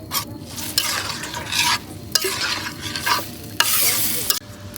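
Spiced masala being stirred in a hot pan as water goes in, a loud close scraping and bubbling sizzle with repeated spoon strokes, no voices.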